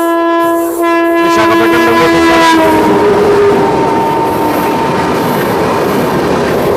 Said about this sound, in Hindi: कोई ट्रेन हाई स्पीड क्रॉसिंग के लिए आ रही है।